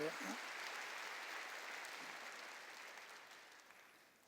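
A church congregation claps in a broad, even wash of applause that fades gradually over several seconds, with a brief voice at the very start.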